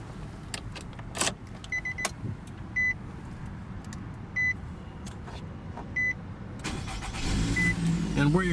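A 2017 Nissan Rogue S with a 2.5-liter four-cylinder engine starting by push button, after several chimes and clicks inside the cabin, then the engine catching near the end and settling into a low idle.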